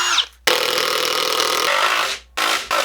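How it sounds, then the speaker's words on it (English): A power drill pre-drills holes in wood for stackable shelving. It gives two loud sustained whirring bursts with a short stop between them, close up. "And don't forget to pre-drill your holes."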